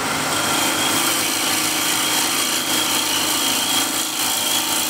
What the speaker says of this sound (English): Again, we can shape with even with the detail gouge.